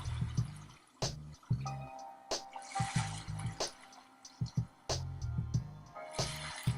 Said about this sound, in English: you've got some nice sounds of the ocean, really relaxing